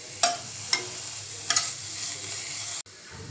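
Ginger paste stirred into sautéing vegetables in a pan: a steady close sizzle broken by several sharp scrapes and clacks of a spoon against the pan, then a brief sudden drop near the end.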